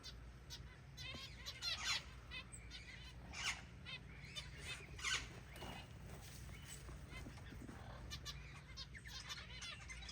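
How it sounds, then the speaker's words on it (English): Small spice finches and zebra finches chirping and twittering in quick bursts at moderate distance, with steady background hum and occasional rustling throughout. "We got some of the spice finches back up there. Some zebras."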